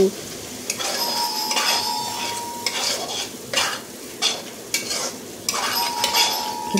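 Spice paste for a fish curry is stir-fried in a pan, loud close sizzling broken by repeated metal spatula scrapes and clinks against the pan in an uneven rhythm.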